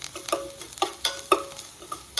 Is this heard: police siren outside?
no